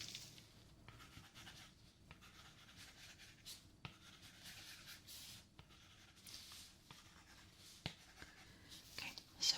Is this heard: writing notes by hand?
yes